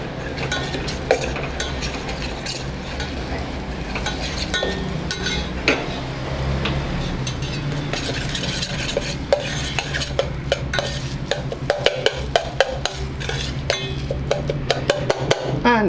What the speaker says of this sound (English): Okay, so now we're just going to stir that around